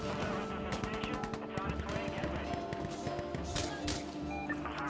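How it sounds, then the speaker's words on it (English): An autocannon strafe in Insurgency: Sandstorm fires rapid, crackling bursts of impacts and shots. The barrage lands at mid distance and keeps on steadily under a voice talking. "you can call an auto cannon strafe on the right beam of the satellite tower"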